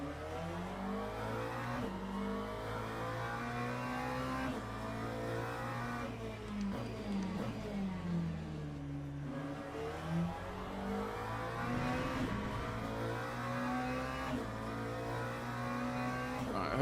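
Le Mans Ultimate race car engine revving and accelerating through the gears in the sim, a loud continuous roar with rising and falling pitch sweeps and gear shifts, steady with no talk.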